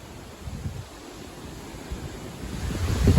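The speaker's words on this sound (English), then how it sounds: "Sorry about the wind." Wind buffeting a microphone outdoors in Tasmania on the Tarraleah Falls walk, a steady low rumbling roar that swells louder toward the end, with no voices.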